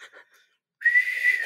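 A person whistles a sustained, slightly wavering high note that holds steady for about half a second, mimicking a boatswain's call, after a few faint brief sounds.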